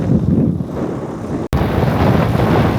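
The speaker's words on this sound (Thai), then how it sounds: "มีลมแห้งในตอนนี้ทุกคนเนาะลมพัดแห้ง" Dry wind blowing outdoors in Vietnam, a steady loud rushing roar buffeting the microphone, broken by one brief cut partway through.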